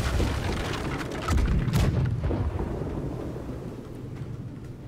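A broadside of cannons firing from a ship in the naval game Blackwake, a deep booming rumble of several overlapping blasts that swells and then rolls away into a long fading roar.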